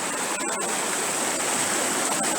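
Water rushes through an old mill race in a wood and spills into a river. The flow makes a continuous, close, full-bodied gush that stays steady throughout.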